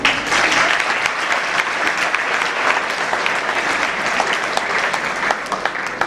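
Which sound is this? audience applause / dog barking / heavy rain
audience applause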